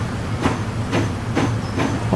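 Train wheels rolling over rail joints in the Transport Fever 2 game on an express route, heard from on board as a steady rumble with a rhythmic clack roughly every half second, close and continuous.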